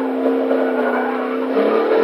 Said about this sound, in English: Dude, listen to your Camaro in first person. It just sounds beastly in first person.